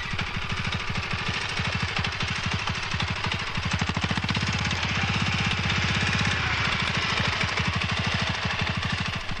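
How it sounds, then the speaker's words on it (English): A 1970s agricultural power unit engine runs in a field before ploughing, its rapid, regular chugging beats loud and close, steady across the whole stretch with a slight change in tone midway. "With the engine running, the power unit can now be driven to the other end of the field"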